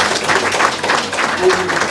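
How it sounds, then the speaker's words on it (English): Applause for a national team captain at a sports gathering, a steady wash of clapping from a crowd running the whole moment at fairly loud level. "So give him a round of applause."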